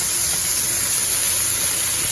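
Red, orange and yellow bell peppers frying in a pan for Mexican-style tacos, giving a steady, even sizzle and hiss throughout with no talk over it.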